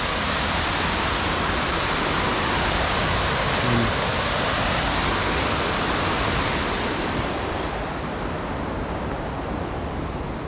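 A hidden waterfall deep in a forest roars as a dense, constant wash of falling water, loud and close, with the high hiss easing slightly toward the end while the low rumble holds steady.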